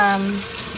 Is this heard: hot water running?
yes